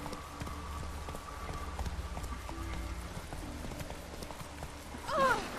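Hooves of a horse clip-clopping steadily in The Witcher 3, a soft regular beat with a brief louder sound near the end.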